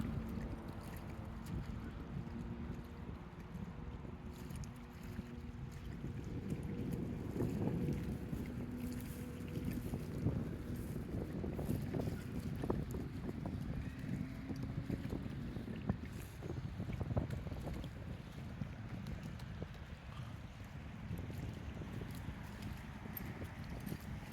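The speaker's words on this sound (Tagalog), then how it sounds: "Pasensya na po kayo kung maingay po ang hangin." Steady low rumbling wind buffeting a microphone among pine trees in Windang, New South Wales, Australia, loud and continuous throughout, with faint irregular thumps underneath.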